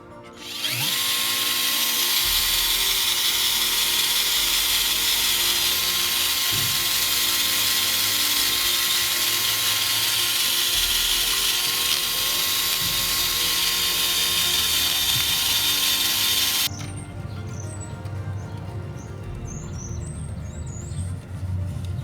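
A power drill with a polishing attachment buffs the engine case of a Royal Enfield Classic 350, a loud steady whine running near continuously before cutting off abruptly, leaving quieter background noise.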